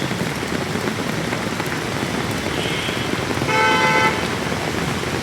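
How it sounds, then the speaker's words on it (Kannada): Heavy rain pouring down in Bangalore traffic, a dense, steady hiss with a brief car horn toot near the end, no voices. "ಫುಲ್ಲು ಮಳೆ ಇದೆ"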